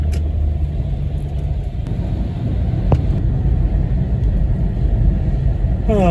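A 1957 Mercury Turnpike Cruiser drives off toward a bend on a wintry day, its engine a steady low rumble that stays loud and close throughout with no talking.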